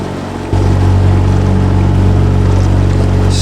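Boat engine on a tidal river, revs dropped low, settling into a loud, steady droning hum close by after a brief quieter start.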